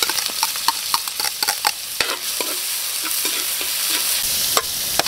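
Onion, garlic and ginger sautéed in annatto oil, a soft crackling sizzle with repeated clicking strokes of a spatula stirring in the pan, close and without talk.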